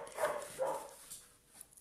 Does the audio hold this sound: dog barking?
yes